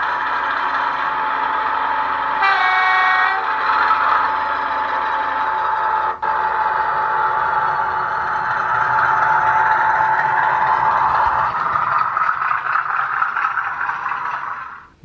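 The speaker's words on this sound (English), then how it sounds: "This one is fitted with the Southwest Digital Sound Decoder." Hornby Class 50 model locomotive, number D421, running on a Southwest Digital sound decoder, giving a steady diesel engine drone with a brief whistle-like tone near the start, continuous and fairly loud throughout.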